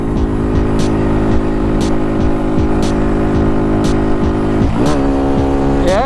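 Small turbocharged engine held against the rev limiter, a loud steady buzzing drone with rapid stuttering cut-outs, then the pitch drops and surges back up as revs rise again near the end.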